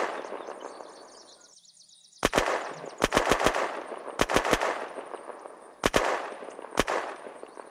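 Bursts of AK rifle gunfire in the video game Unturned: sharp semi-automatic and rapid shots in clusters over a background game hum.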